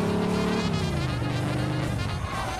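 A fast car in the video game Mafia 2 roars with a loud, steady engine drone, its pitch sliding as it revs and shifts, close and continuous with no talk over it.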